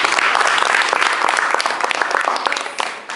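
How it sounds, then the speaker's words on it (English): An audience at a Toastmasters club meeting in Bengaluru claps loudly and steadily for about three seconds, dense close applause with no talk over it. "we need to give him a round of applause."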